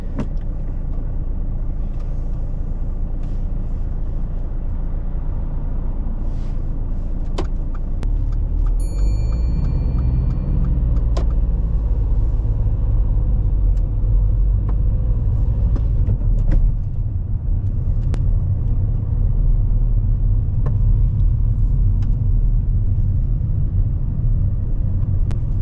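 A learner driver's car pulls away and drives along a road, its low engine rumble steady and close throughout, with faint road and cabin noise.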